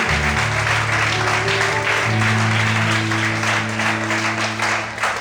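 Applause from a Portuguese-speaking church congregation fills the room, steady clapping over sustained organ or keyboard chords, with voices faintly mixed in.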